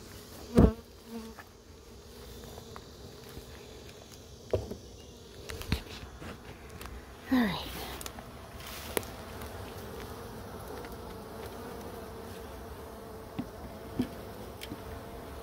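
Faint bee buzzing drifts around nearby, with scattered knocks and rustles breaking through the quiet now and then.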